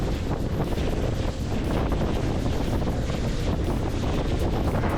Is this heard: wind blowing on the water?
yes